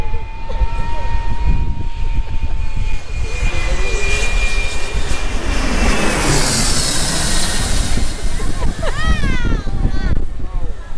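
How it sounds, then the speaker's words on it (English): A jet airplane roars low overhead coming in to land at Maho Beach, St. Martin, swelling to a loud rushing peak and then fading, while people talk nearby over the constant din. "That was the airplane."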